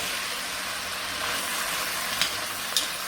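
Beef stew thickened with flour simmers in a pot on a stove top, giving a steady, faint sizzling hiss throughout with two soft clicks near the end.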